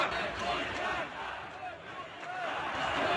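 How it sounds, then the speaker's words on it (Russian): Angry protest crowd in a Moscow street rally pushing back against police detaining an opposition figure, a dense roar of shouting voices and babble close by, rising and falling but continuous throughout. "Возмущенная толпа пыталась препятствовать полиции и не дать им забрать оппозиционера"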